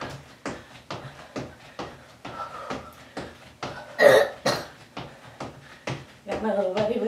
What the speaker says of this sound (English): That's that coughing sound you just heard.